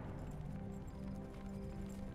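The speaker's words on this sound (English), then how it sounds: "The horse has returned." Horse hooves clip-clop steadily in Warcraft 3 as a horse returns, a dense, muffled patter of hoofbeats running under a low rumbling game background.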